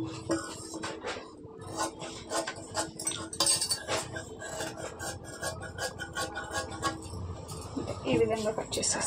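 Scissors cut through blouse fabric in quick, repeated snips and scraping rasps, with a voice talking over the cutting throughout.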